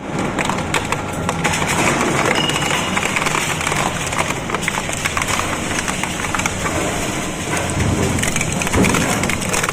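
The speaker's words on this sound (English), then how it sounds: "A heavy gas cylinder takes on the shredder in another satisfying crushing test." An industrial shredder crushes a heavy gas cylinder with a loud continuous grinding roar. Dense cracking, crunching and splintering rattles run through the whole stretch with no pauses.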